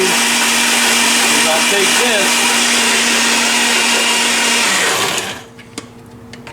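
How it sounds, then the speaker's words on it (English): Blender pureeing soup ingredients, a loud steady whirring motor with some pitch wobble that cuts off near the end, leaving quiet clicks while a voice speaks briefly over it. "Blend that all up until it's a puree."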